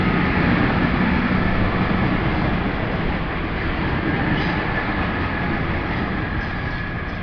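A passing diesel passenger train rumbles steadily and loudly at Plymouth, with a broad continuous roar of engine and wheels on the track and no talking.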